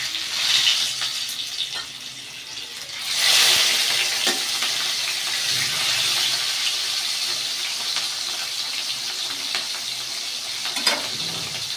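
Turmeric-and-salt-marinated fish frying in oil in a pan, a steady close sizzle and hiss with brief louder spitting bursts, no voices.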